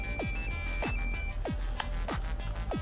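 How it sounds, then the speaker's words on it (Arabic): A phone ringtone plays continuously at close range, a bright repeating electronic melody with sharp downward chirps recurring about every half second, with no talking. "جاوب على التليفون، جاوب ولا خفتي؟"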